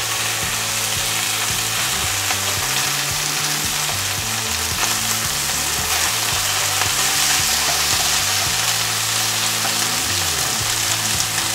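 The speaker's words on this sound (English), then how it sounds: "Once we've got this other side seared up" Loud, steady sizzling of beef searing in a hot wok, with occasional scraping and stirring noises throughout.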